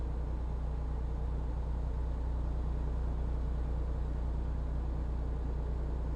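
A steady, droning video game truck engine rumble runs without a break, low and constant like a vehicle cruising along at even speed.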